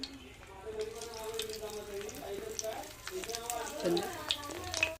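Okra pieces fry in hot oil in a pan with a soft, steady sizzle that stays under continuous talking throughout.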